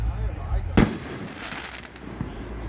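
A fireworks show produces one sharp, loud burst early on, with a continuous crackling rumble around it and people talking nearby.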